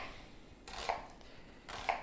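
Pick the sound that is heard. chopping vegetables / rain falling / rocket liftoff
chopping vegetables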